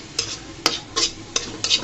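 Taro leaves stir-fried dry in a pan, with a spatula scraping and stirring in about five sharp bursts over a steady soft sizzle, close and moderately loud.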